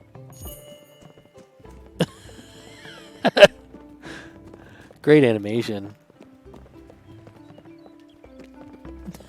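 Sparse hoofbeats from a sheep galloping in the video game Spiritfarer sound as a few short, light clip-clop taps spaced over several seconds. They sit alongside quiet game music, and a person speaks briefly partway through.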